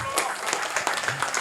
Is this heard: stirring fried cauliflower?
no